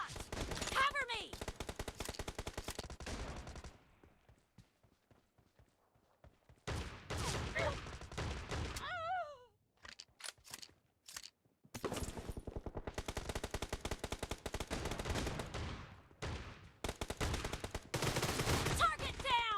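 Shotgun gunfire in an online video game, dense bursts of repeated shots with brief lulls, loud and close, mixed with game voice callouts.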